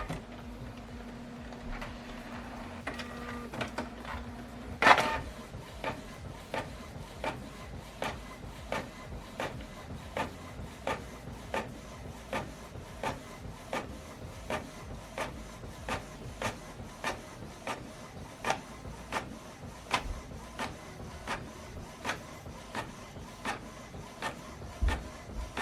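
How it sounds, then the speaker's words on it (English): A Canon printer working through a document with double-sided printing, giving off a steady train of regular mechanical clicks and ticks with soft whirring underneath, plus one sharper clunk early on. No one talks over it. "So now this document is going to print out from this printer."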